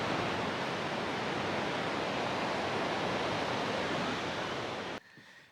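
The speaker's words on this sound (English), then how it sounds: "Look at the size of this waterfall." A large waterfall in Norway roars as a loud, steady broadband rush for about five seconds, then cuts abruptly to a much quieter background.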